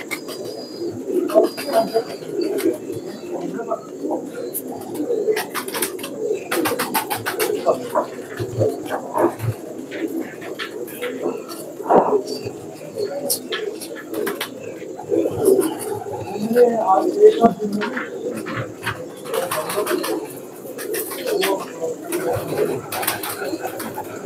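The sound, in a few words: red phanair pigeon cooing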